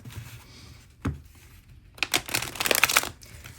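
A deck of thick cardstock tarot cards being shuffled, heard as a short papery burst, a pause, then a longer run of rapid flapping and snapping riffles, close and alone without talk.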